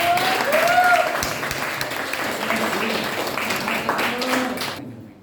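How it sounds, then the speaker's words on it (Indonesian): Students in a geography classroom clapping for a classmate, a brief burst of group applause that tapers off, with voices talking over and after it. "Tepuk tangan buat Abdul"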